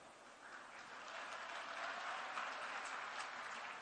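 A crowd claps at a political rally where Punjab Chief Minister Bhagwant Mann is speaking. The applause is distant and fairly soft, swelling a little after the first second and holding steady with no voice on top.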